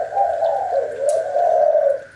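A spotted dove coos nearby in a soft, low, drawn-out call, repeated smoothly with no other sounds around it.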